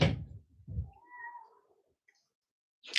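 A house cat yells and meows indoors, a single drawn-out wavering cry rising after a couple of short thuds, close and moderately loud, then fading into quiet.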